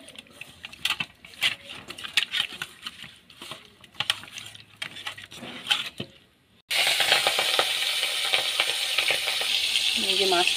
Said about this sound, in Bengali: এই যে মাছটা ভাজতে দিয়েছি